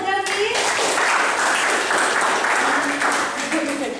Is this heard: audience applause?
yes